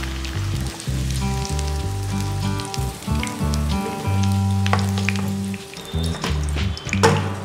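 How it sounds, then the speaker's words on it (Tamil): Brinjal pieces frying in plenty of hot oil for a biryani gravy crackle and sizzle continuously up close, with occasional utensil bumps and short pauses in the bubbling. "கத்திரிக்காயில் எண்ணெயில் வதங்கிடுச்சு"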